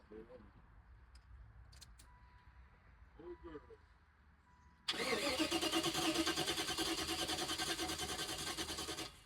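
A long-idle Buick Roadmaster cranks briefly and fires up after months of sitting, its engine catching abruptly and settling into a loud, steady rumble with a possible exhaust leak, following quiet moments of faint talk nearby.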